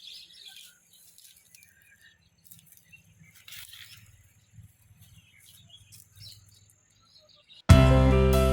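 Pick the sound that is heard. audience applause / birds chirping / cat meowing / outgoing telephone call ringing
birds chirping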